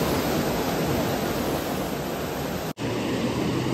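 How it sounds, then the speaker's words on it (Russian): A river running high with lots of water rushes steadily as a loud, broadband wash close by, with a brief dropout near the end. "Такое ощущение, что сегодня воды много, прям больше воды."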